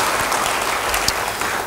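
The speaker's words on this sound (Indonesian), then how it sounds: "Yang mau beri tepuk tangan yang baik bagi dia." A church congregation at an Indonesian sermon breaks into brief applause, a dense, loud patter of many hands clapping together for under two seconds.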